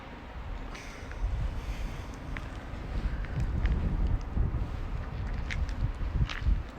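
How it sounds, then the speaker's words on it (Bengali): Strong cold wind blowing during a heavy Canadian snowstorm, a continuous low rumbling buffet against the microphone with gusty surges and faint scattered clicks, no voices. "প্রচন্ড ঠান্ডা বাতাস।"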